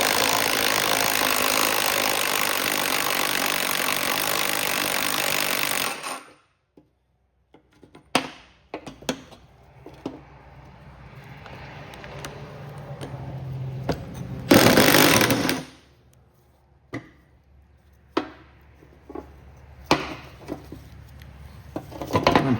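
An impact wrench rattles loudly on a seized shoulder bolt of a Cub Cadet riding mower in a continuous burst, then goes quiet. It returns in a second short burst among scattered clanks of tools and metal.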